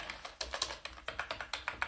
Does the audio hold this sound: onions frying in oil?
no